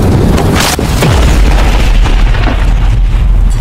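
A loud, sustained explosive boom with a rumbling low roar that keeps going for several seconds, dense and close, with no talking.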